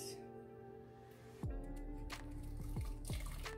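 Chopped bell peppers drop into a pot of red beans and water for Creole red beans and rice, with a sudden burst of wet splashes followed by a few more plops and a steady liquid rush.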